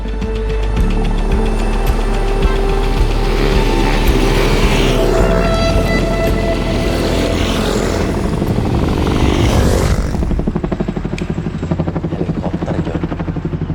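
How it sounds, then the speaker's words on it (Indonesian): Helicopter flying close overhead on a motorbike outing, a loud pulsing rotor chop with thick engine whine that builds, peaks near the middle and then thins as it passes, with no talking. "Baru kali ini gue main motor ketemunya helikopter."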